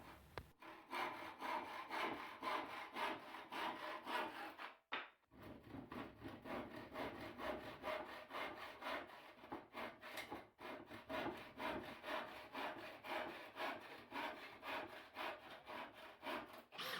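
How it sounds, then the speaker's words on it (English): A handsaw cutting through wood in a workshop, steady back-and-forth rasping strokes that carry on continuously with one brief pause, close and fairly quiet, with no voices. "Then the long ends were cut off with a handsaw."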